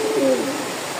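Several pigeons in a loft, young birds newly paired, give soft low cooing calls, a couple of close, steady coos in the first half trailing off into a quieter background.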